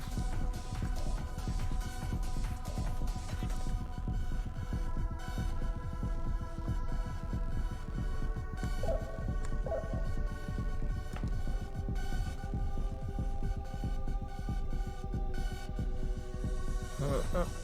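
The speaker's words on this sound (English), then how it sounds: "the heartbeat sound makes me nervous" Heartbeat sound effect from the Persona 2: Eternal Punishment video game, a steady low throbbing pulse repeating under a humming musical drone that continues for the whole stretch.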